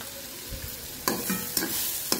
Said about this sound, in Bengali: নাড়াচাড়া করে ভেজে নিচ্ছি